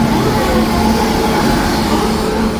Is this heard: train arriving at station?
yes